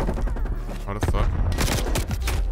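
Rapid bursts of automatic gunfire in the Call of Duty video game, dense and continuous over the full stretch, loud and close with overlapping shots and no talk on top.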